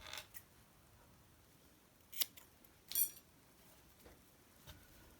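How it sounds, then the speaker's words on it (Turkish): Scissors snip off excess yarn from a zigzag knitted scarf, three or four sharp clicks spaced irregularly in a quiet room, with no talking. "fazlalığı kesiyorum."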